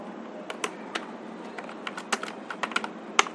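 JavaScript code being typed on a computer keyboard: a run of quick, irregular key clicks, close and clear, with no voices.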